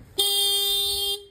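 A car horn gives one steady, loud, close honk lasting about a second.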